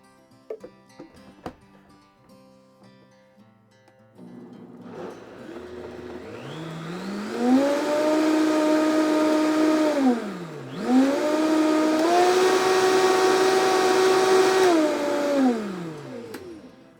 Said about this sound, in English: With the Vitamix, if you let it run, it's actually really nice because it will heat up your ingredients inside